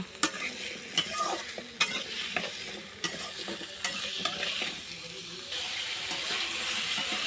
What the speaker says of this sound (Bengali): দেখেন পেঁপেটা আমি এখন ভেজে নিচ্ছি।